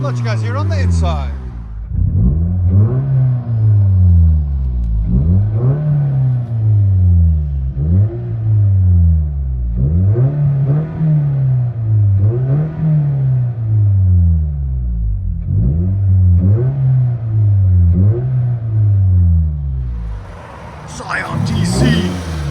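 From inside the cabin, a 2010 Scion tC 2.4L exhaust with Vibrant Ultra Quiet resonator and muffler delete gets revved in a steady series of about seven swelling pulls, each climbing and falling back with a droning boom.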